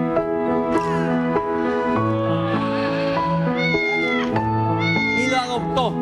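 A cat meows repeatedly, long drawn-out wavering cries close by, one after another with barely a pause.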